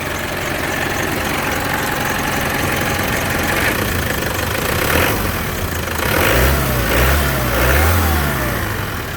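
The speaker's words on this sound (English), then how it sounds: "this engine sounds actually really nice. It's just like an older diesel." A 1996 Land Rover Defender 90's older diesel engine idling steadily with a gruff, knocking rumble, revving up briefly a couple of times before settling back, heard up close without talk.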